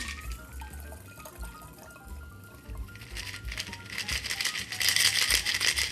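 Sparkling water and prosecco poured into a chilled snifter for a spring cocktail, a steady liquid splash with fizzing hiss that grows brighter and louder toward the end, no talking.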